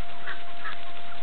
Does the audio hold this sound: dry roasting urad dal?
no